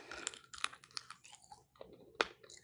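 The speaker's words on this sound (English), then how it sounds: "You can probably hear me crunching right now." Close crunching bites on stale, rock-hard chocolate covered almonds, several sharp crackly bursts spaced unevenly over a couple of seconds, with quiet chewing between and no talk.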